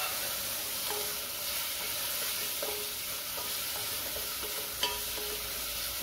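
Tomatoes and onions sauté in a pan for a broad-bean curry, a continuous close hissing sizzle with occasional soft stirring clicks and no voices.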